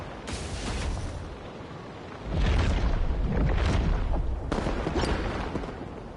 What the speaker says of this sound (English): Fireworks, really?